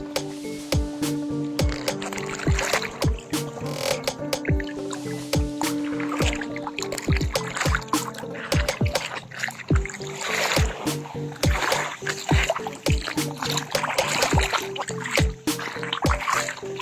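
Sea water draining back down a rocky shore, dragging sand over stones, gives a steady wash full of dense clicking and rattling pebble noise, close and continuous throughout.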